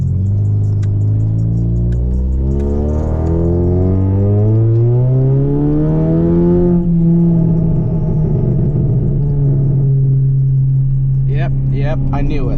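A BMW car rumbles up close behind and revs, its engine note climbing steadily and then holding a loud, low drone, with a few clicks near the end.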